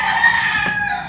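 A farm chicken held in someone's hands gives a short, strained squawking cluck, close and fairly loud, with no talking.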